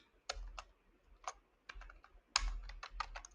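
Keys clack on a computer keyboard as a Python command is typed, in short clustered bursts with brief pauses, close and fairly quiet in an otherwise still room.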